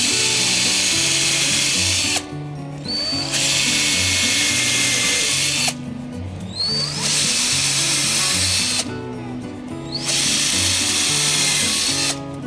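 A power drill pre-drilling holes into a wall for mounting a soundbar, whining loudly in three long bursts separated by short pauses, close and alone with no speech.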